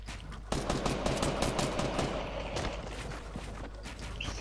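Dense gunfire from the video game Fortnite Battle Royale, rapid cracking shots in quick bursts over a steady game soundscape, continuous and moderately loud throughout.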